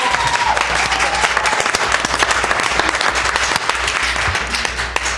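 A cheering section of people applauds at a county board of commissioners meeting, with sustained, dense clapping from a nearby group that continues steadily throughout.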